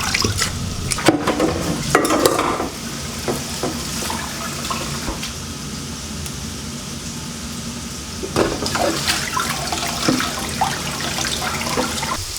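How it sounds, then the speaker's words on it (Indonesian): Water spinach is rinsed under running water, with a continuous close splash and gush, louder bursts at the start and again near the end, and a softer trickle in between. "Ini kangkungnya kita bilas."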